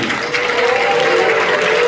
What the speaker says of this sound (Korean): 우리 목사님 모실 때 큰 함성과 큰 박수로 한번 우리 한번 모시겠습니다